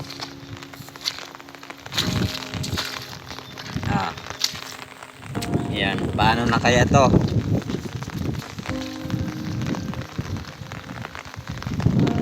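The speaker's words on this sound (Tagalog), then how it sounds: "walang sawang ulan." Heavy rain pours steadily over a flooded rice paddy, a constant wet hiss heard close by, while someone talks over it intermittently.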